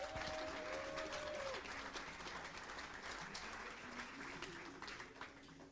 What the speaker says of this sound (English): let's get ready with a big applause for the athletes for the final R4